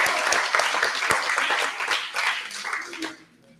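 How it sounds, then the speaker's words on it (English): An audience at a school board meeting gives a short burst of applause, dense clapping close by that thins out and fades to quiet at the end. "give yourselves a round of applause"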